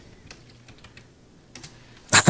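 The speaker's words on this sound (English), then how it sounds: "writing it down. Well, typing it." Quick bursts of computer keyboard typing at close range, scattered keystrokes building to a loud flurry of rapid clicks at the end, with faint background noise and no clear speech.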